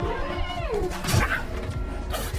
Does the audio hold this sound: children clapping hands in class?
no